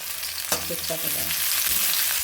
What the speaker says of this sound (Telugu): బాగా పచ్చివాసన పోయేంత వరకు వేయించుకోవాలి